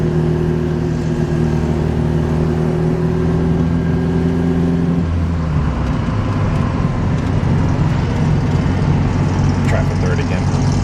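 An Alfa Romeo engine drones steadily in gear with a loud, continuous mid-low rumble, and the pitch shifts partway through as the load changes.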